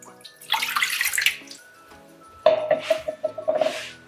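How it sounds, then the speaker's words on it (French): Water poured into a bowl while preparing a coffee and rosemary hair-growth oil, two bursts of splashing and trickling close by, separated by a short pause with light clinks of a container. "ce que je fais, je vais venir renverser mon eau"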